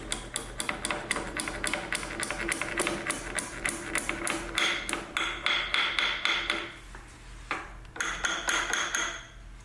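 A hammer taps a key into the axle of a 1961 David Bradley tractor, a rapid series of sharp metallic strikes that pauses, then resumes in bursts, close and with no talking.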